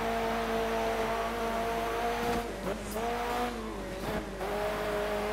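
Rally car engines from Dirt 3, an Audi Quattro among them, drone steadily with layered harmonic tones that dip and shift as the cars jostle, with brief tire scrabbles and scrapes near the end.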